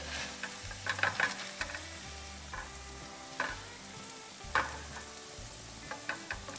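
Tuna and potato burgers fry in a pan, giving a steady sizzle broken by a few scraping stirs and taps, with no one talking.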